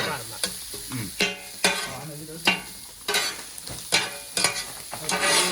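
Chopped roti and onion for kothu stirred and frying in a pan, with a steady sizzle broken by regular, rhythmic scraping and clanking strokes of a metal spatula, close and loud, no talking.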